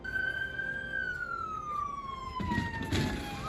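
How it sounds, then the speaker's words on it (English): A police car siren wails steadily, its pitch sliding slowly downward, with traffic rumble underneath and no talking. "The squad car comes speeding in, sirens blaring"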